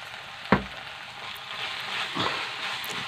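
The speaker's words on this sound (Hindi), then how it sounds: "और अब मैं इन्हें अच्छे तरह से चलाकर भून लूंगी, पका लूंगी" Spiced masala with tomatoes for a cluster bean curry being stir-fried in a pan, a steady close sizzle broken by sharp scraping stirs of a spoon.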